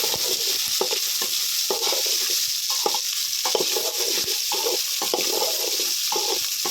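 Small shallots sizzle and fry in a pan for goat head gravy, a loud steady crackle broken by repeated stirring scrapes.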